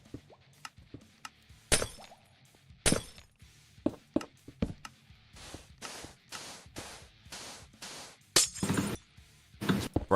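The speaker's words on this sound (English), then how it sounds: "Sorry, I'm smashing your windows." Glass windows smashing one after another in Minecraft, a rapid string of sharp shattering crashes with brief pauses between breaks, loud and close, with no talking.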